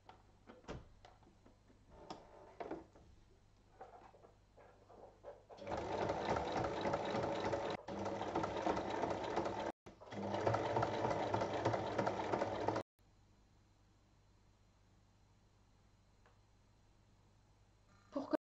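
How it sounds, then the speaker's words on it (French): An electric sewing machine stitches fabric at the pin marks in two loud, steady runs of a few seconds each, separated by a brief stop, with quieter handling noises before and after. "maintenant je vais piquer à l'endroit de l'épingle"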